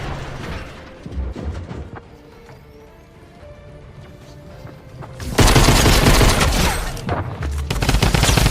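Rapid bursts of drum gun fire in Fortnite, loud and dense automatic shooting that starts sparse, then erupts into long sustained volleys with brief pauses between them.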